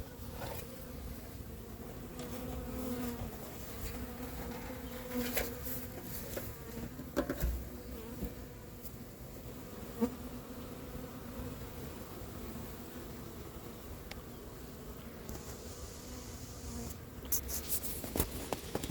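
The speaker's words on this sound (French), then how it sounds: "J'essaie de faire tomber les abeilles sans faire tomber le carton." A honeybee swarm buzzes continuously as it is shaken from a cardboard box into a hive, a dense, close drone with occasional soft knocks and thumps.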